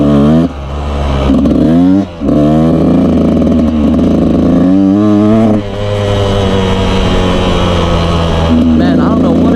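Two-stroke dirt bike engine revving loudly and continuously up close, with pitch rising and falling through repeated throttle blips and a couple of brief dips.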